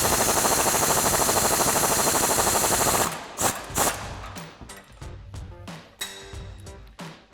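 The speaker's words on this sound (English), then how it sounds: "we'll be using our 18mm socket and 18mm wrench to tighten this down" Ratcheting socket and wrench snugging an 18mm sway bar end link bolt on a Jeep Wrangler JL during a suspension lift install: a steady buzzing burst like an impact tool for three seconds, then several sharp metallic clicks and clunks up close.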